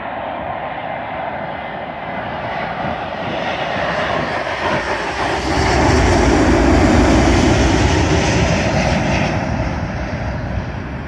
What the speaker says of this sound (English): Arriving in now is a British Airways Boeing 777, working a service from Mumbai to London Heathrow.